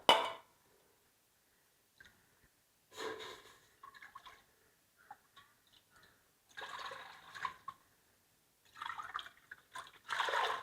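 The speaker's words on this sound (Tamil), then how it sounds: "3 டம்ளருக்கு நம்ம 9 டம்ளர் தண்ணி ஊற்றுவோம் இல்லையா" Water poured from a tumbler into a cooking pot, nine tumblers measured for rice with black urad dal, coming as several separate splashing pours with short quiet gaps between them, close and fairly soft.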